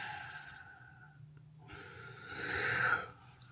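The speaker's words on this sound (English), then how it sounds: "Bit of a yawn as amongst my screaming" A man yawns during a Jaguar MKII restoration, a long drawn voiced breath that swells to a loud open peak and then trails off, close and on its own.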